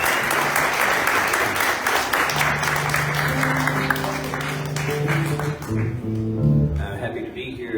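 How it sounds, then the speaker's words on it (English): An audience at a comedy show gives a performer a round of applause, loud sustained clapping filling the room, fading as a voice begins talking near the end. "Jerry McKevin, give him a round of applause"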